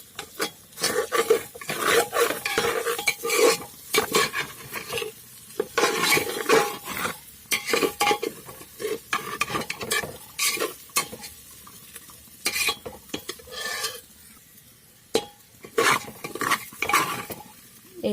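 Pulao ingredients with turmeric powder fry in a pan while a utensil scrapes and stirs them, giving steady close clinks and scrapes over a soft sizzle throughout, with no talking.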